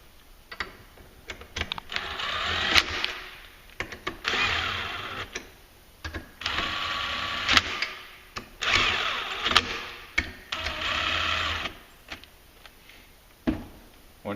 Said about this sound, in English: it's just a matter of tightening all these bolts up.